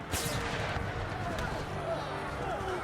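Cannon and gunfire from a Civil War video game battle sound as a dense, continuous rumble of booming shots and crackling volleys, with a voice speaking over the din.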